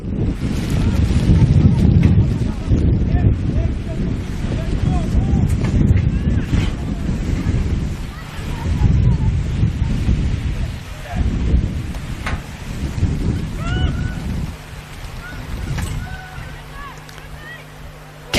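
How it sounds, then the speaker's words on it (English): Heavy rain and gusting wind buffet the microphone at a women's football match, a steady broadband roar with louder gusts throughout, while a commentator's voice continues over the top. "As the rain picks up."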